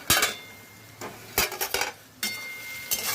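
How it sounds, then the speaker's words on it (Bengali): A metal lid lifted off a pot of carrots cooking for sabu khichuri, with a few sharp clanks and rattles in separate bursts, close and fairly loud, with no voices. "ঢাকাটা খুলছি"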